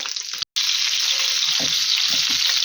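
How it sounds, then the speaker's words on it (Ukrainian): Steady hissing sizzle of battered cutlets frying in a pan on low-to-medium heat, with a brief cut near the start and soft clinks and stirring sounds underneath. "І на малесенькому огні, такому нижчі середньому, який ми смажимо котлети, буду смажити."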